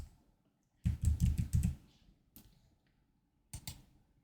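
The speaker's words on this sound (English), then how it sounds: "in here I'll just type the date" Short bursts of fingers tapping a computer keyboard, a quick cluster of keystrokes followed by a few isolated clicks in a quiet room.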